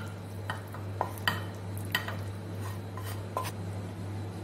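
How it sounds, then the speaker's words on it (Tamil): Sautéed mixture being tipped from a pan into a mixer jar, with a few light clinks and scraping taps of a spoon against metal spaced over several seconds, faint over a steady low hum. "அதை ஒரு மிக்சி ஜார் கொட்டிக்கலாங்க"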